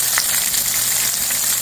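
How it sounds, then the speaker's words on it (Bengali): Koi fish fry in hot oil in a kadai, giving a dense, continuous sizzle with small crackling pops, close and steady with no talk. "কড়া করে ভাজবো"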